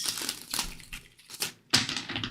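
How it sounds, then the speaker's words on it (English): Tarot cards being shuffled by hand, with several close, crisp bursts of riffling and slapping cards separated by short gaps, fairly quiet. "Let me shuffle a couple more times."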